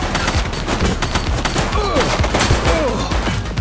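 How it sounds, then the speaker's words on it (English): Dense bursts of gunfire crackle through a shootout in the police video game The Precinct, rapid overlapping shots filling the scene loudly and continuously. "Shots fired!"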